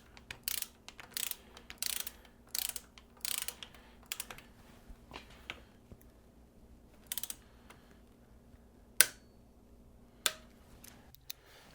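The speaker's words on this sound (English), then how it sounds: "You can tighten down this pinch bolt, which is also a T45 Torx bit." A ratchet clicks in quick bursts while tightening a T45 Torx pinch bolt on a Harley fork, with short clustered ratcheting passes, pauses between them and a couple of sharper metallic clacks near the end.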